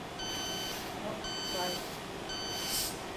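A faint electronic beep from a refrigerant leak detector repeats at a steady slow pace, three times, over a soft hiss of background noise.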